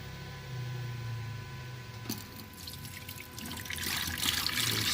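Water poured down a newly built outdoor sink drain trickles and splashes close by, starting gently and then swelling into a fuller pouring stream with no talk over it.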